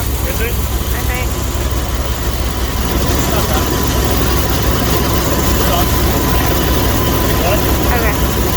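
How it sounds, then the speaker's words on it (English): A car engine idles with a continuous loud, broadband drone while the air conditioning compressor runs during an A/C charge, and voices speak over the steady hum. "is that running, your compressor? It's kicking on and off"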